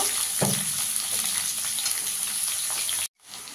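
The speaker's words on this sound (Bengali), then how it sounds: "আলুটাকে একটু ভেজে নেব।" Potatoes frying in a pan for a Bengali mixed vegetable dish: a close, steady hiss of oil with a brief clatter of stirring early on, then a sudden short cut before the sizzle resumes, no talking.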